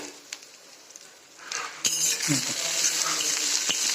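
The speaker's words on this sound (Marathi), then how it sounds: "आता तुपामध्ये चांगले शिजवून घेते" Diced potatoes frying in ghee in a pan, a steady close sizzle that rises and fills in after a quieter start, with a few light clinks, no talk.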